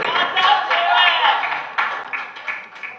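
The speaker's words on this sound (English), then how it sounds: "give the Lord a hand clap" Church congregation clapping hands together in praise, a dense, fairly loud burst of claps that thins out toward the end, with voices mixed in.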